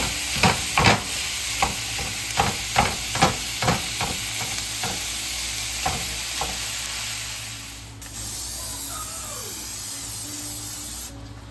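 Ground meat browns loudly in a hot frying pan with a steady sizzling hiss, punctuated by rhythmic scraping taps of a utensil stirring, which fade out partway.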